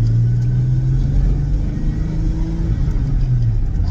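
A car engine rumbles nearby, its low drone wavering and dipping unevenly, sputtering as the engine cuts out, with no voices over it.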